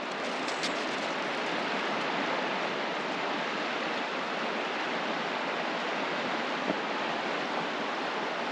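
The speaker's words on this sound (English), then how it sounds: "this is our lovely river with mist" Steady, broadband rushing water of the Nipigon River flows continuously at close range, a dense even roar with no voices or breaks.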